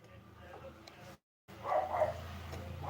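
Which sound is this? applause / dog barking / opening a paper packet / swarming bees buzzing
dog barking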